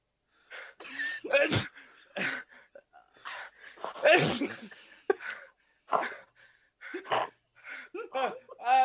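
A person sneezing repeatedly at a tabletop game recording session, several sharp bursts scattered among laughter and voices talking nearby.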